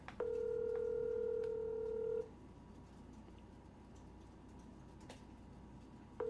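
While an outgoing phone call is being placed, a steady telephone tone sounds for about two seconds, then a quiet pause, and the tone starts again at the very end; nobody speaks.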